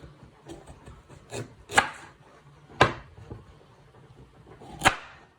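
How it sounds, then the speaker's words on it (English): A knife chops the ends off a carrot on a cutting board, giving a few sharp, separate woody thuds spread over several seconds against quiet room tone. "Next step is to prep your carrot. You chop off your ends"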